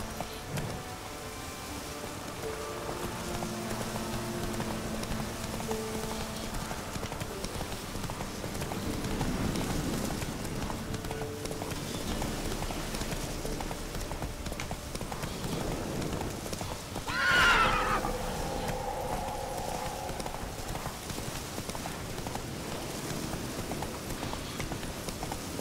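In the game Witcher 3, a horse gallops with rhythmic clip-clop hooves under light rain, and about two-thirds of the way through it gives one loud whinny.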